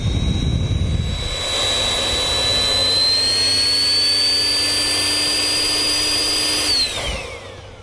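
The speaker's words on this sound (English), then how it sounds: "To completely deflate it and make it easy to fold, we'll use our pump." Electric air pump deflating a rear-seat air mattress: a loud, steady high-pitched whine that holds for about seven seconds, then drops in pitch and fades as the pump shuts off, with no talk.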